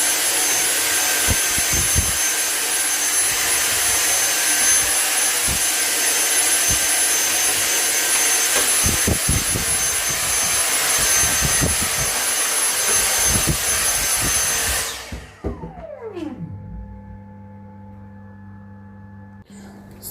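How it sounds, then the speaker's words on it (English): Close, loud whine of a rebuilt Dyson vacuum cleaner fitted with a DeWalt battery. It runs steadily with a high-pitched roar for about fifteen seconds, then switches off and winds down with a falling tone. "So that was my Dyson Hoover that I rebuilt"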